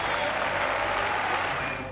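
Steady audience applause fills a tennis stadium at Roland-Garros as a player qualifies for the second round, a dense wash of clapping from a large crowd held at constant loudness and easing slightly at the end.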